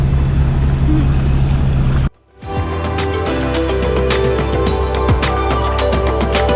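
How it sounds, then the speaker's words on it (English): A sailboat motoring under engine power down a channel in Alaska's Inside Passage, with a steady loud engine drone and water and wind rushing, briefly interrupted mid-way before resuming. "we're just motoring down the channel"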